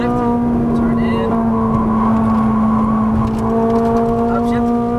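A Ferrari 458's engine pulls hard on a racetrack, holding a loud, steady high-pitched drone with a brief dip as it shifts up to the next gear, while a voice talks over it.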